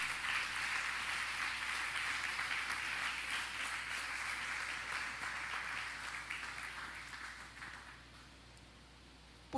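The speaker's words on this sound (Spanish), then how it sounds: "Puedes darle un fuerte aplauso al Señor." A church congregation applauding during a sermon, a steady wash of many hands clapping at moderate distance that gradually fades out toward the end.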